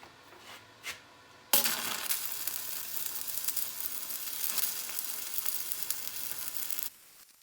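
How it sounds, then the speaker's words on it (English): Arc welding on rebar for a homemade scrap-metal rocket stove gives a steady, close crackling sizzle that starts abruptly after a few faint clicks and runs for several seconds before cutting off. "I gotta weld all the rebar up now"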